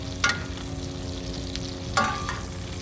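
Beef tenderloins basted with seasonings sizzle steadily in a cast iron pan in an RV kitchen, a loud continuous fry broken by two sharp metallic clinks of a spoon.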